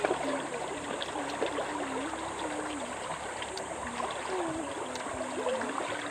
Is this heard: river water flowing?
yes